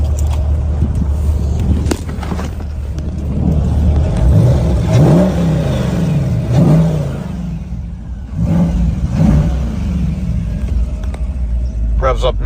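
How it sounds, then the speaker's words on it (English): The V8 302 engine of a 2012 Ford Mustang at an outdoor car show is revved several times, deep rumbling surges rising and falling over a steady idle, close and loud, with someone talking over it. "I'm gonna go ahead and give this thing a rev so you can hear this engine."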